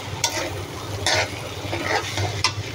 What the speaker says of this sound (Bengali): এখন আমি ডিমের চূড়া করে দিয়ে দিচ্ছি